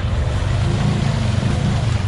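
Off-road vehicle engine working through a deep mud bog pond, a steady loud low rumble that holds throughout with no break.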